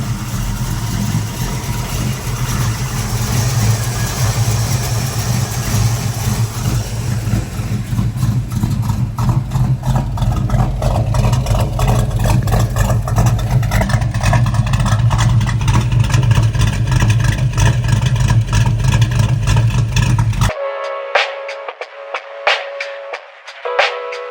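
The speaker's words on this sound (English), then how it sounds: "let's hear how it runs." A 1969 Chevrolet Camaro's engine runs steadily at idle with a deep, loud rumble for about twenty seconds, then cuts off, leaving brief faint clicks and sounds.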